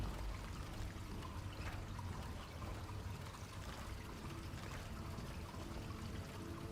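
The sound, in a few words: water rushing through pipes in the video game Skyrim (Lorerim)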